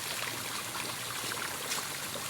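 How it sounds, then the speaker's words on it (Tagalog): Water gushes hard and steadily from a tap onto a gravel-filled spot being prepared for the faucet, a continuous broad rushing hiss with no pauses. "Kasi po naman kalakas ng tulo ah."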